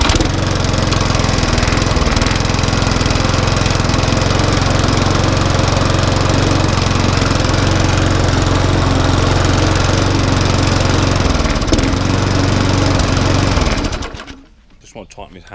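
Small lawnmower engine firing up and running loudly at steady speed after pull-starting, a rough rattling drone that holds for about fourteen seconds before cutting out abruptly.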